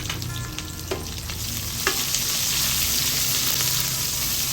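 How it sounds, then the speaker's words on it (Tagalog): Onions sauté in a pan with salt, giving a constant close frying hiss that swells louder midway, marked by a couple of sharp stirring taps, and no voices. "Lutuin ang sibuyas hanggang ito maging translucent at lumabas ang mabangong amoy nito"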